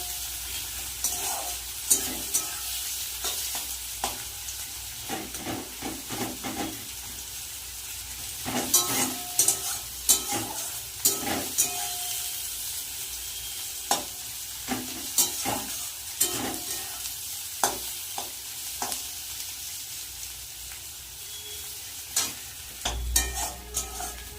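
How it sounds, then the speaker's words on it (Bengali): Onions frying in a pan with soft steady sizzling, broken by frequent scraping and clattering stirs from a spatula, fairly quiet and close, with no voices. "পেঁয়াজটা একটু লাল লাল করে ভেজে নেব"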